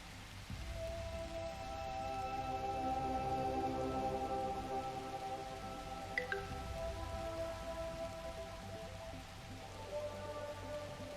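Steady rain falls over a lake in the video game The Universim, a soft continuous patter beneath sustained tonal game music, with one brief sharp tick partway through.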